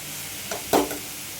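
Ghee sizzles as carrot halwa is stirred in a pan, with a brief louder burst of frying sizzle and stirring scrape near the middle, fairly close and otherwise quiet.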